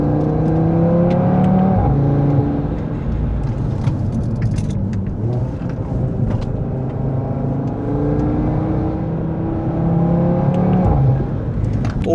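A turbocharged car's engine pulls steadily while driving along a road, a loud continuous drone heard from inside the cabin, its pitch rising and falling with gear changes, with light rattles over the top.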